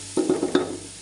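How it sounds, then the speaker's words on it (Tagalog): Garlic sautéing in a pan for Bicol Express: four quick stirring scrapes over a light sizzle, close and brief. "Ginisa lang natin itong bawang."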